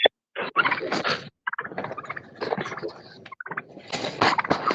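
Turkeys gobble loudly and close by in repeated rattling bursts with short gaps, several calls overlapping across the whole stretch, with no talk.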